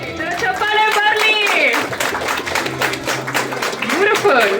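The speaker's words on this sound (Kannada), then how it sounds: "ಚಪ್ಪಾಳೆ ಬರಲಿ." A crowd claps at the opening of a diamond jewellery show in a Joyalukkas showroom on Dickenson Road, Bengaluru. Clapping is heard throughout under a speaking voice.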